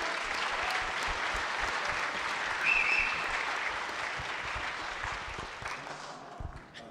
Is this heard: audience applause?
yes